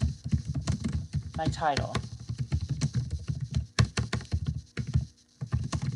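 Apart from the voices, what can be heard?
typing on a computer keyboard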